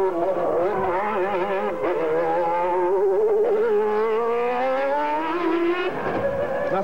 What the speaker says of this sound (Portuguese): O objetivo das primeiras voltas é sentir o carro, perceber como funciona um Fórmula 1.